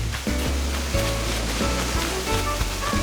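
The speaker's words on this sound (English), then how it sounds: "we got all these waterfalls" A steady rushing of waterfalls in the video game Animal Crossing: New Horizons, with gentle game music tones playing over the continuous water noise throughout.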